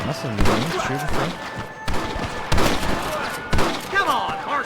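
Gunfire in the Western game Red Dead Redemption, several sharp shots and thuds spread across the moment, mixed with game voices and chatter.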